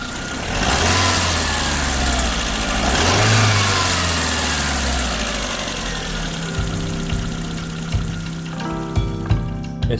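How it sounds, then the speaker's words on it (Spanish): A Chevrolet Matiz/Spark small car engine cranks, catches and runs steadily after a timing belt replacement, a loud close rumble that settles into an even idle with some clatter toward the end. "Ahora arrancamos el motor para ver si hemos trabajado bien."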